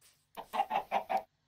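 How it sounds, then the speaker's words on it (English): Chickens in a video game cluck in a quick run of four or five short, evenly spaced calls, close and fairly quiet, with a tiny click right at the end. "the only thing that I've gotten so far are chickens"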